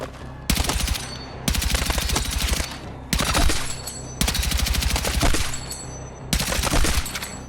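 Rapid automatic gunfire from a weapon in Battlefield 6, loud and close, fired in several sustained bursts of roughly a second each separated by brief pauses.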